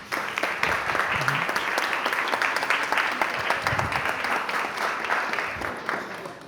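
A church parish audience breaks into steady, dense applause to welcome a priest-dean to the stage, sustained for several seconds at full strength with faint crowd murmur underneath.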